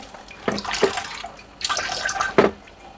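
Eru leaves rinsed in water through a colander, running water splashing in several uneven bursts, close and fairly loud with no voices.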